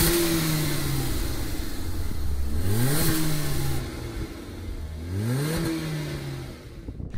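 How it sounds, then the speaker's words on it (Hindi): Exhaust of a 2018 Hyundai Verna heard from the rear as the engine is revved twice, each blip climbing sharply in pitch and falling back to a steady idle hum, no talking. "पीछे की तरफ जाके आप लोग को एग्जॉस्ट का साउंड सुनाएंगे आपको।"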